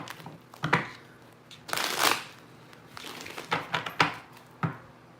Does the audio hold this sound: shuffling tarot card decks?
yes